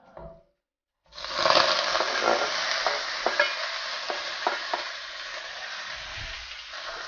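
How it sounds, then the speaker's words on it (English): Skirt steak sautéing in a hot pan for japchae, a loud sizzle bursting in after a short silence, then steady hissing with scraping stirs that slowly eases. "Our choice of protein is a skirt steak. We're gonna saute this for a little bit."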